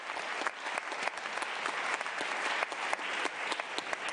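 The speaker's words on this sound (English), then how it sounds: "Round of applause," Audience applause at the Young Activists Summit at the United Nations, many hands clapping in a steady, even patter with sharper individual claps standing out, sustained for about four seconds.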